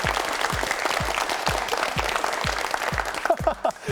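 Studio audience on a Korean word quiz show claps together, a dense burst of applause over a few seconds with regular low thumps underneath and a voice briefly at the end.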